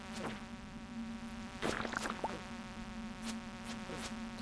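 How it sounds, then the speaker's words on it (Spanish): Flies buzz faintly in Stardew Valley Expanded, a thin steady drone with small bursts of in-game activity over it and no talking. "Los bichos voladores en este juego son odiosos, ¿eh?"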